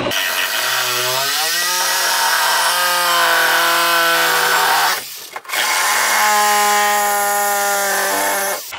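Power saw cutting through a 2x4 wall stud while framing a window opening, its motor whining loud and close with rising pitch under load, dropping out for a brief pause, then cutting again.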